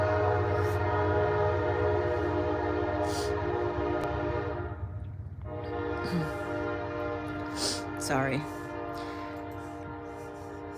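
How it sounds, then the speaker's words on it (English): A passing train blasts its horn in a long, loud, sustained chord over a rumbling rail background. The horn dips briefly midway, then swells again before fading, and a person speaks a single short word partway through. "I can go all day without a train, but as soon as I read, one comes."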